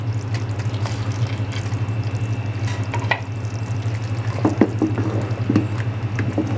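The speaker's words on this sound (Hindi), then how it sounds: "अब हमने इसमें पकौड़े डाल देने हैं।" Pakoras go into simmering Punjabi kadhi in a home kitchen, making soft plops and splashes against a steady low bubbling hum, with a few sharper clinks toward the end.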